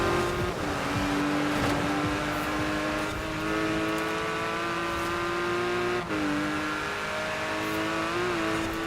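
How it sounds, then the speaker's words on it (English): Car engine in Forza Horizon 4 pulling hard in first gear, a loud continuous rising whine with a brief dip near six seconds as revs drop and climb again, tyres faintly scrubbing beneath. "So I can get to about roughly 70 k's in first gear."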